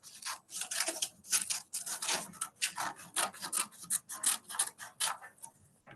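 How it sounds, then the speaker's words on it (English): Scissors snip through a large paper page along a dotted line, a close, steady run of short rasping cuts with brief pauses between strokes and no talking. "I'm just going to cut on the dotted line where it asks me to cut"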